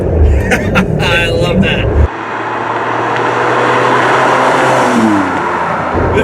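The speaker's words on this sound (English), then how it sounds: "There's nothing like shifting gears in a V12 car." A Ferrari 550 Maranello V12 drives on the road: a loud, steady engine drone with a gear change partway through. Someone speaks briefly over it near the start.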